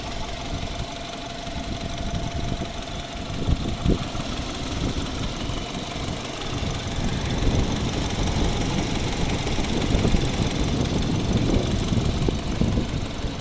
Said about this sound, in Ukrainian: Ну, ось робота двигуна.